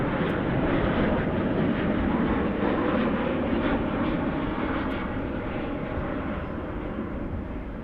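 Steady roar of an American Airlines jet in Astrojet livery at DFW International Airport at dusk, a loud continuous engine rumble that holds level then eases slightly as the plane passes.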